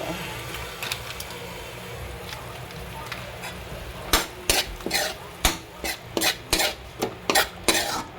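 Menudo with fresh tomato sauce being stirred in a pot, a run of spoon scrapes and clatters against the metal in an uneven rhythm after a few quieter seconds, with a low background hum and no talk.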